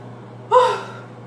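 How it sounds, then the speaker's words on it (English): A single sharp, breathy inhale from a person, like a heavy gasp for air after effort, clear and close with no talk around it. "I don't know why I'm breathing so hard."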